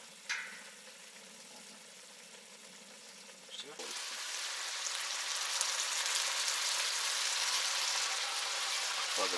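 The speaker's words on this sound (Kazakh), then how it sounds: "Тамаша қуырып отыр." Hare meat in a pan over a gas flame outdoors breaks into a steady sizzle that grows louder and stays even, with a voice speaking briefly at the start.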